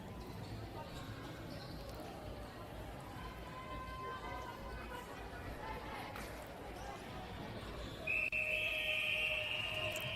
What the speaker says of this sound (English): The whistle calls to move into this third quarter here.